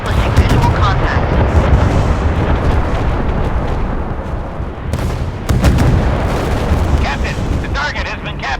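Naval guns fire in a Force of Warships battle, heavy booming blasts and rumbling explosions layered into a dense, loud roar, with a short lull before the barrage swells again.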